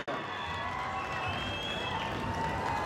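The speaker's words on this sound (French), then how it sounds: "On applaudit bien fort." A crowd at a boxing event applauds and cheers for a European champion, producing a dense, continuous wash of clapping and crowd noise that stays loud and steady throughout.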